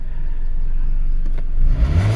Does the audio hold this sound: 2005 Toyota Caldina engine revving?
yes